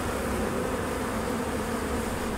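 Dense, steady buzzing of a mass of honey bees during a packaged bee installation at the hive, continuous and close with no pauses and no voices.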